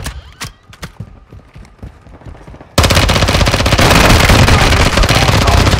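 Gunfire in the Call of Duty DMZ shooter, a few scattered shots and thuds at first, then a sudden loud, sustained burst of rapid automatic fire that continues to the end.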